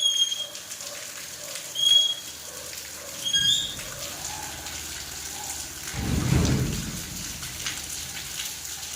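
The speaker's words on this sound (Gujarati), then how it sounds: "વરસાદ થોડોક ધીમો પડ્યો" Rain that has eased off falls as a faint, steady hiss, with a low rumble swelling briefly in the middle and a few soft high chirps above it, and no one talking.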